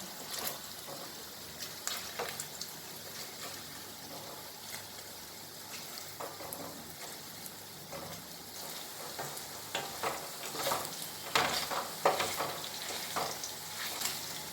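Cubes of paneer fry in oil in a pan, giving a close, constant crackling sizzle with occasional spoon scrapes and bubbling pops that grow a little busier toward the end, and no one speaks.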